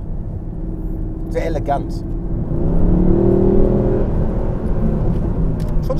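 The 6.3-litre V8 of a Mercedes SLS AMG gull-wing sports car drones steadily and swells into a deeper, louder rising growl as it accelerates, while someone speaks briefly over it.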